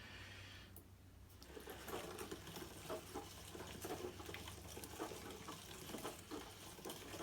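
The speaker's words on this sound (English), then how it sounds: "you would grind it through again" A hand-cranked meat grinder working sausage meat in an off-grid setting, producing a continuous rhythmic grinding and squishing churn with steady mechanical clicks, close and moderately loud.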